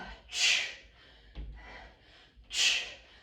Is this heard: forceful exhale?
yes